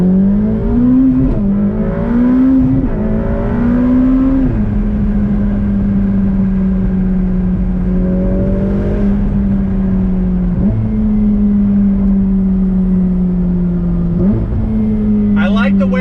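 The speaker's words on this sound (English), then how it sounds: "the sound of that V8, I know it's missing a little bit of that high tune because we don't have a naturally aspirated V8" Turbocharged V8 of a 2020 Ferrari F8 Tributo Spider revving steadily and shifting up through gears, loud and close from inside the cabin, with the engine note rising and dropping several times.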